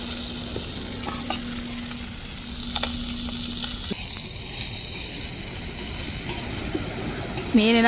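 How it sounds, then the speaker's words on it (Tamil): Ora fish frying in oil, cooked outdoors near a beach: a steady, close hiss of sizzling oil runs throughout, with faint clinks and stirring, and a voice speaks briefly near the end. "நல்லா வெந்துட்டு நல்லா பொறிச்சு எடுத்துக்கிட்டாச்சு"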